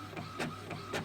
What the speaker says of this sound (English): Printing my July insert.